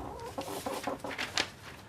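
A hen clucks in a quick series of soft, close clucks rising slightly toward the end, with no talk over it.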